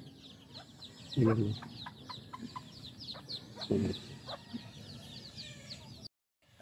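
Chickens cluck close by in soft, scattered calls, with a couple of louder squawks standing out. A person speaks briefly nearby.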